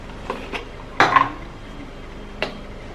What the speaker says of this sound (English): I'm going to be putting about 1 tablespoon of my rice powder into this hibiscus flower juice and stir it